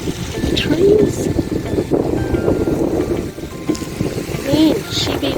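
Gusty wind buffets the microphone in a town square in Blenheim, New Zealand, a constant rumbling roar with bursts of louder gusts, while people talk over it.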